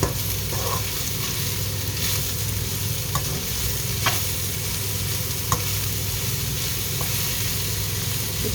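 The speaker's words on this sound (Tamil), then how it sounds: "இப்போ அதை நல்லா பிரட்டி விடுவோம்." Chopped onion and dried fish frying in a pan, stirred and tossed with steady scraping strokes over a continuous loud sizzle, with no voices.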